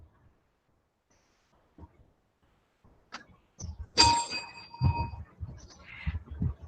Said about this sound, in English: The timekeeper will ring the bell once.